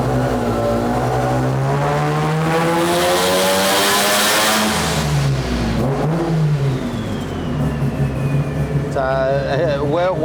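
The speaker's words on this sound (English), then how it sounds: "We're just going to rev it a little bit more this time." A Mazda rotary engine with about 15 psi of boost, revved hard during tuning: a loud, continuous buzzing drone that climbs in pitch, holds, then drops and settles, with a short rising whine near the end.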